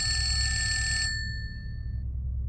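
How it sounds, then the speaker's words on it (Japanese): A bright telephone bell sound effect in a spoken ghost story, a single metallic ring that stops abruptly and leaves a short fading tone over low background hum. "電話が鳴った。"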